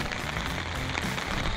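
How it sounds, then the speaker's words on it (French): Steady rain pours down on a campsite during a French bikepacking trip along the ViaRhôna, a dense, continuous patter close by with no talk. "Mais il pleut!"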